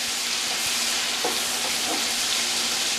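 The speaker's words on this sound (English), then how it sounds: "We're just going to give them a nice little sear." Ingredients searing in a hot pan give off a steady, dense sizzle that runs unbroken throughout, close and fairly loud, with faint scraping underneath.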